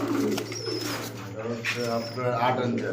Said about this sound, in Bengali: চলে আসলাম আরও এক পেয়ার কবুতর নিয়ে।